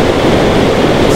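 Whitewater of LeHardy Rapids on the river below the lake in Yellowstone: a loud, dense, continuous rush of churning water, close and steady, with no voices.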